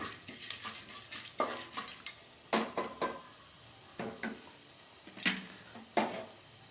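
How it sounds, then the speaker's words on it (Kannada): Mustard seeds, cumin and chana dal fry quietly in oil for roasted rice upma, with soft spattering under repeated sharp scrapes and clinks of a spoon against the pan, and there is no talk. "ಅರ್ಧ ಸ್ಪೂನ್ ಜೀರಿಗೆ ಸಾಸಿವೆ ಮತ್ತು ಜೀರಿಗೆ ಎರಡು ಸ್ಪೂನು ಕಡಲೆಬೇಳೆ ಸ್ವಲ್ಪ ಫ್ರೈ ಆಗಲಿ"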